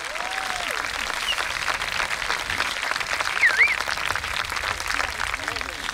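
An outdoor festival audience at the Festa Major de Sant Julià de Vilatorta applauds saxophonist Marcelí Droguet of Orquestra Venus, sustained dense clapping with an announcer speaking over it and a few faint whistles.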